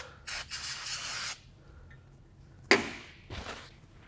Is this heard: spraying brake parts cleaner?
yes